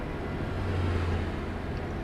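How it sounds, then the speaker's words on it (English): A low, steady Renault T truck engine rumble in Euro Truck Simulator 2 drones continuously with a slight rise in the middle, loud and close, no voices. "This truck doesn't sound too great"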